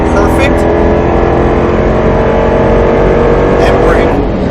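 A Roush Mustang RS3 roars at full throttle on the Speed Vegas track, its engine note loud and close and climbing as it accelerates through the gears. A voice can be heard over the engine.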